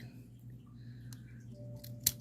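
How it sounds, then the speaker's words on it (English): A pair of Provo Craft scissors snips old Avon nail stickers for a Halloween manicure, giving faint close snips and one sharper cut near the end over a low background hum. "these are a Provo craft pair of scissors"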